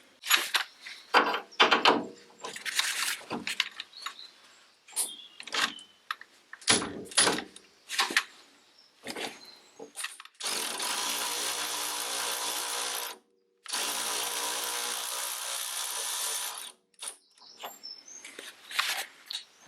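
A screwdriver pries at a part of a 1969 Triumph Spitfire Mk3 steering rack, giving sharp metallic clicks and scrapes, then two sustained grinding or whirring bursts of several seconds, close up with no talk.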